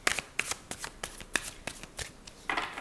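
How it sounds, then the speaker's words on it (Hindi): Tarot cards are shuffled up close in quick, uneven riffles and snaps, crisp papery bursts with short gaps between them. "I want to take few more cards आपकी लव लाइफ के लिए"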